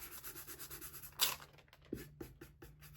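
A finger rubs shiny metal leaf foil down onto stencil adhesive, making soft, close, scratchy rubbing strokes in a steady rhythm, with a few sharper scuffs toward the end.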